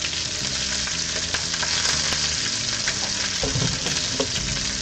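A pork chop sears in a hot pan with a loud, steady sizzle and crackle of frying fat that continues without a break for several seconds.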